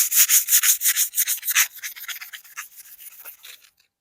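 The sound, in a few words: sanding rust off a vintage rip saw with 60 grit sandpaper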